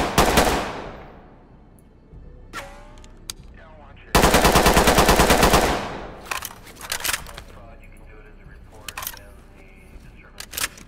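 Gunfire at a shooting range in the game Ready Or Not, with a loud single report, then a sustained rapid burst of automatic fire, then scattered lighter shots and mechanical clicks, all close and punchy, with a voice talking over it.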